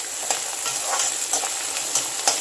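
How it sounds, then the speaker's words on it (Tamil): Tomatoes sautéing in a pan while cooking a raw jackfruit fry: a steady, close frying sizzle with a few soft stirring scrapes spaced through it, and no voice. "இப்போ தக்காளி போட்டு வதக்க போகிறேன்."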